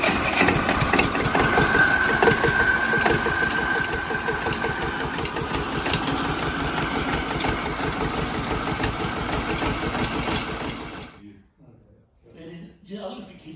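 Vintage Kramer tractor engine running at a steady idle with a rapid, even chugging beat, close and fairly loud, cutting out near the end and leaving quiet with faint voices.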